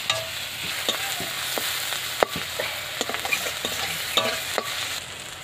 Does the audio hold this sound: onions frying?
yes